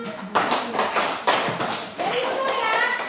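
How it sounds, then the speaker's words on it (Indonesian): Classroom applause for a class of seventh-grade students, with bursts of hand clapping and tapping that swell in several waves, with children's voices mixed in. "Tepuk tangan."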